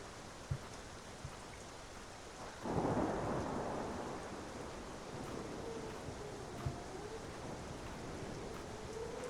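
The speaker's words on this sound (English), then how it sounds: "Out in the rain." A low rumble of thunder rolls in over a steady patter of rain in the video game Butcher's Creek, fading slowly into the continuing drizzle.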